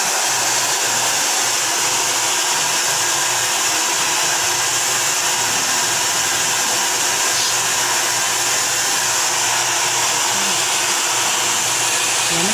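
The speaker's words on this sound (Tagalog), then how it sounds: "tapos ko na siyang i-blower" A hair dryer blows steadily during a hair rebonding and colour treatment, a loud continuous whooshing roar that runs unbroken from start to finish with no voices.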